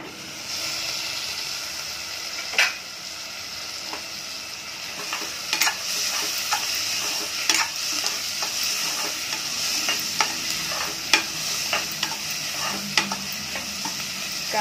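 Onion sautéing in a pan for ridge gourd bhaji, a constant bright sizzle with occasional sharp spatula taps and scrapes scattered throughout, close and steady, no talk.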